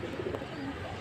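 Pigeons coo softly in a loft, a brief low murmuring call over steady background noise.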